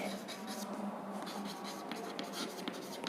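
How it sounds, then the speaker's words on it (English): Chalk or marker strokes scratch steadily across a classroom board as Rutherford's atom model is written out during a physics lecture on atoms, a continuous close scraping with faint background murmur. "So we write Rutherford's atom model."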